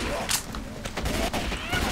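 Bursts of gunfire from a gun in the zombie shooter game Left 4 Dead, rapid sharp shots crackling close and loud over a busy game background, with some speech mixed in.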